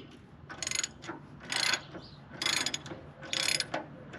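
A ratchet wrench works loose the axle bolts on a WWII M15A1 half-track, giving four rapid, close bursts of clicking, evenly spaced, with short pauses between.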